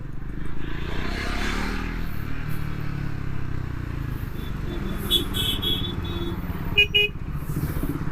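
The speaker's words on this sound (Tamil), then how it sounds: "ஹார்னு" A Triumph Scrambler 400X motorcycle horn gives a couple of short toots over the steady rumble of the running bike and road noise, heard up close from the rider's position.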